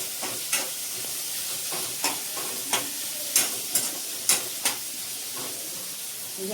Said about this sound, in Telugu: కొద్దిగా లైట్ బ్రౌన్ కలర్ వచ్చేంత వరకు పచ్చివాసన పోయేంత వరకు బాగా వేయాలి